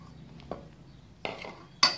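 Egg whites go into a pan to start homemade chantilly cream, making three brief kitchen clinks and knocks of a utensil against cookware, spaced apart and close up in a quiet room.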